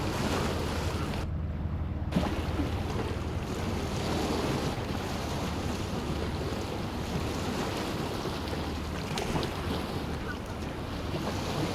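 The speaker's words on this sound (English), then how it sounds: "this is a little engine sound for the distant ferry, which could have been cut in effects, but again, it's just kind of a general ambience thing" Ocean waves and wind make a steady wash of surf, with a low, faint engine rumble from a distant ferry beneath it, continuous throughout.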